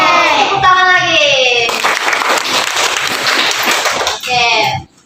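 Children clapping together in a classroom, a dense burst of applause lasting a few seconds between stretches of loud young voices shouting and chanting.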